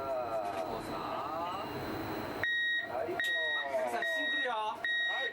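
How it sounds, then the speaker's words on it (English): Emergency Quake Alert System earthquake alarm, sharp electronic beeps sounding in a regular, repeating pattern over the second half, loud and close, with someone talking throughout. "The Emergency Quake Alert System raises the alarm as soon as it detects the first seismic waves of a big quake"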